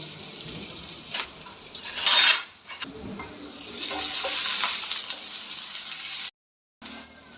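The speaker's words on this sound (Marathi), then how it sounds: "दोन बारीक चिरलेले कांदे घेतले ते पण मस्त गोल्डन ब्राऊन कलर येईपर्यंत तळून घ्यायचे आपल्याला तेलात" Finely chopped onions frying in oil on a home stove, a broad steady sizzle with brief louder bursts as they are stirred, cutting out abruptly near the end before resuming.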